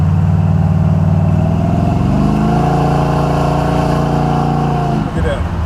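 A Buick 455 Stage-1 Regal T V8 accelerates loudly nearby, its deep engine note rising steadily in pitch and then dropping off abruptly near the end.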